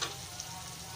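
Green chillies hit hot oil in a pan, giving a steady, close sizzle and crackle that holds evenly for a moment with no voices.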